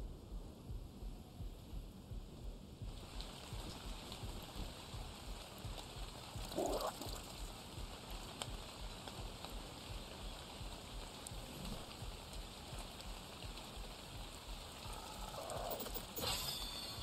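Steady rain falls in the video game Ark Survival Ascended on the Scorched Earth map, a soft, even hiss that continues throughout at low volume with no talking.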